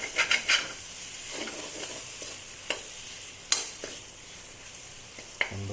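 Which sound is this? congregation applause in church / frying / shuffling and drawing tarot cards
frying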